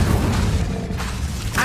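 An Incendio fire spell cast in the Hogwarts Legacy video game gives a loud, dense whooshing burst that roars steadily throughout and flares again at the end.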